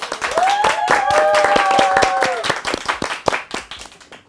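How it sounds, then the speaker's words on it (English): Lively clapping from a talk show audience welcoming a guest, a crisp near patter over a brief sustained musical tone, then thinning into a few scattered claps as it fades. "Round of applause and please welcome Mr. Boy."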